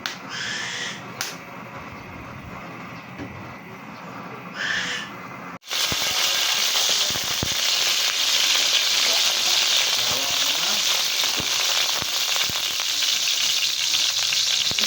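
Cooking oil sizzles in a pan, a loud, steady hiss that takes over abruptly midway and runs to the end, after a quieter stretch with faint kitchen sounds.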